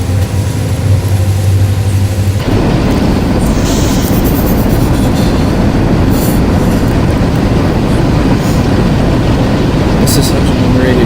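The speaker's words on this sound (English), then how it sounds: "I'm trying to control the train's speed here. We're on a big, long grade." Union Pacific 844 steam locomotive and train roll down the long Cajon Pass grade in a train simulator game, a loud steady rumble of wheels and rail noise with brief squeals, after a short tonal passage at the start.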